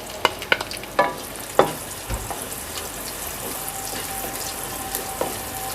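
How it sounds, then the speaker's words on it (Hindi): Whole cumin seeds roast in hot oil for a dish of potato and egg curry, giving a steady close sizzle with sharp clicks and stirring knocks near the start and no talk. "इसमें मैं डाल दूँगी ज़ीरा सबसे पहले साबुत, और इसको चंद सेकंड भून लेंगे इसी में।"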